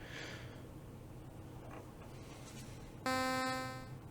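A Behringer Crave analog synthesizer plays one note with a fast envelope attack: a bright, buzzy harmonic tone starts abruptly after a quiet stretch of low background hum, holds loudly, and begins to fade toward the end.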